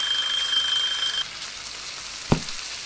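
A kitchen-timer alarm from the Cooking Simulator game rings as a bright, steady tone over a frying sizzle, then cuts off, leaving the sizzle alone with one short knock near the end.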